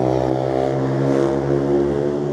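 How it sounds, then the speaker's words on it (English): A noisy motorbike passes close by with a steady, loud engine drone and low buzzing hum holding evenly throughout, in Blackpool, with no voices. "There's always a noisy motorbike, isn't there?"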